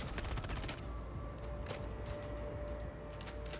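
Rapid automatic gunfire in the video game Star Citizen, dense bursts of shots and sharp cracks filling the whole stretch over steady game background noise, loud and continuous, with a thin tonal hum running beneath.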